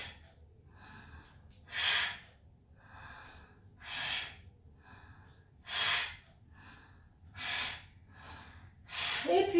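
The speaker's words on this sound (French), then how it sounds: "Expire, la petite respiration Bastrika." Forceful bhastrika yoga breaths come close and loud as five strong rhythmic bursts, evenly spaced about two seconds apart, with softer breathing between them.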